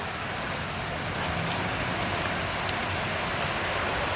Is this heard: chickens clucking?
no